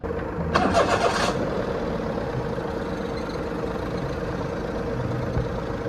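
A Perodua car engine cranks briefly and catches, then settles into a steady mid-pitched idle that continues close and even, with no voices.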